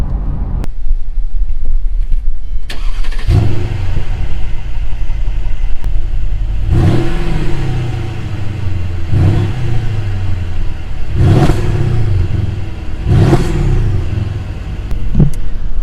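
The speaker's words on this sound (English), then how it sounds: "my stepsister-in-law has a pretty impressive car here, and it is a Mercedes-Benz CLS550" A car engine rumbles at idle, then revs repeatedly in loud bursts that rise and fall, each roar spaced a couple of seconds apart.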